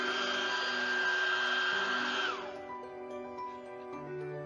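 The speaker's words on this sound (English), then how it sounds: "I'm gonna use my hairdryer to dry my plate so it goes a little bit faster" A hairdryer blows a steady loud whirring rush while drying paint on a plate, then powers down midway, its whine falling off into quieter room sounds.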